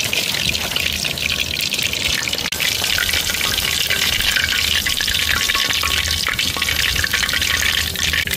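Food frying hard in a pan, making a dense, loud, continuous sizzle with faint scraping of stirring underneath and no talk.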